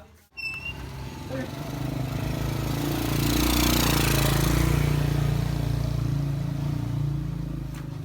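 A motorcycle engine starts with a sharp catch and then runs at a steady idle, its low, throbbing rumble swelling slightly and holding close and loud.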